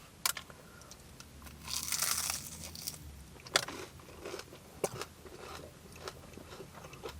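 Crisp bites and chewing on a deep-fried potato slice in fish batter from a Yorkshire fish and chip shop, close and crunchy, with sharp crackles spread over several seconds and no talking.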